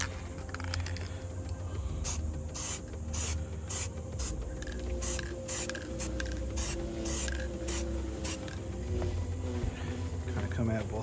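Spray can primer misting onto a 1:12 scale FX-7 medical droid plastic model kit, close hissing bursts in short repeated pulses with brief pauses between them.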